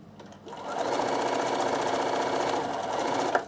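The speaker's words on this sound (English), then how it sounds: "I'm going to turn it and stitch it again so it does not pull out" A sewing machine stitches fabric in a fast, even mechanical chatter that runs steadily for about three seconds, close and clear, with a light click as it stops.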